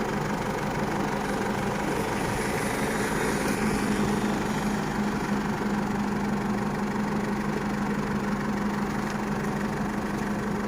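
A car engine idles steadily after being started, a constant low mechanical hum with no change in revs, heard at moderate distance.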